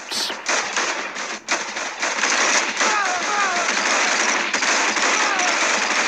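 Rapid, dense gunfire in the video game Medal of Valor, loud and continuous over several seconds, with crackling bursts blending into a constant barrage.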